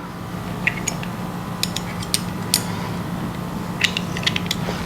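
Handlebar bracket bolts on a 2022+ Honda Grom loosened with a 3mm hex key, giving scattered small metallic clicks and ticks over a steady low hum, close by.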